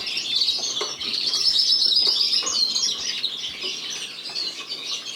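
A flighted clear yellow canary cock bird chirps and tweets in quick, bright bursts while being handled for washing, with light rustling and faint wing flaps close by.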